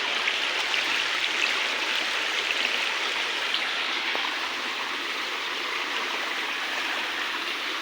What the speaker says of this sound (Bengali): জলের গতিটা দেখতেই পাচ্ছ কী হিসাবে জলের গতি